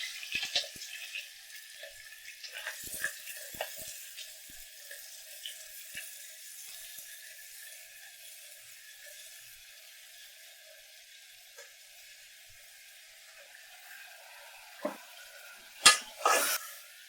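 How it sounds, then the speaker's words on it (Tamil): Chopped onions sautéing in a pressure cooker for chicken gravy, a steady faint sizzle with light stirring scrapes and a couple of sharper metallic clinks near the end. "வெங்காயம் கொஞ்சம் நல்லா வதங்கட்டும்"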